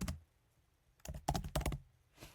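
Typing on a Mac computer keyboard, two short bursts of crisp, close keystrokes separated by a brief quiet pause, with no talking.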